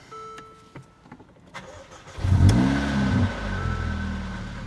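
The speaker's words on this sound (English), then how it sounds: "Right, we're going to see if it fires up. I've got the jump pack on it, the battery was flat." A salvage car with a flat battery and a Valvetronic exhaust is cranked on a jump pack after a few faint clicks, then catches and fires into a loud, close rumble that settles into a steady idle.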